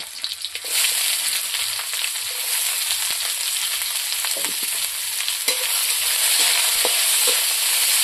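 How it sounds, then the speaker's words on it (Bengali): Onion, green chili and bay leaf frying in a little oil for a country chicken curry make a continuous, close, even sizzle, with faint stirring scrapes now and then. "এখন আমি কাঁচা লঙ্কা, তেজপাতাটা দিয়ে দেব। পেঁয়াজটা দেব।"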